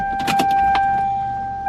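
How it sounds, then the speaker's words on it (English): Fuel pump priming in a Toyota Supra with a new fuel system, a short steady electric whine with a few soft clicks at the start, heard alone without talk. "Fuel pump prime."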